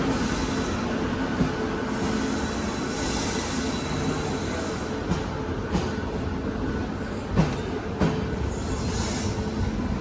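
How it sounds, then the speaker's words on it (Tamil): A train bound for Coimbatore rolls through a station with a steady rumble, wheels squealing and clacking over rail joints, loud and continuous. "ட்ரெயின் வந்து போகுது"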